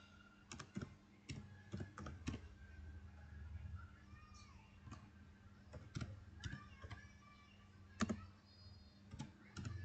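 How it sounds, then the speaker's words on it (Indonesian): Typing a command on a computer keyboard in a command-line window for an XAMPP database, with soft, irregular key clicks in quick clusters over a low hum, faint and close. "Kita ketik perintah"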